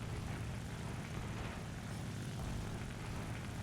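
A J2M3 fighter plane's propeller engine drones in a War Thunder air battle, a steady dense roar with no breaks, loud and continuous throughout.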